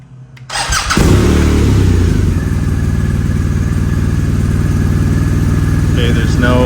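A BMW R 1250 RS motorcycle fitted with full titanium Akrapovic headers and exhaust can starts after a brief quiet moment, then runs at a loud, steady idle with deep throbbing exhaust pulses, close by.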